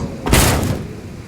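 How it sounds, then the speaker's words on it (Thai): A door being opened: a single sudden, loud whooshing bang that fades quickly into a low rumble. "นายเปิดประตูดู"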